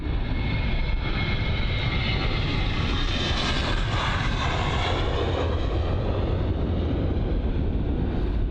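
Airbus A321-200 jet taking off at London Luton, a broad roaring engine wash that swells to a peak and then holds steady at moderate distance, with some wind buffeting on the microphone.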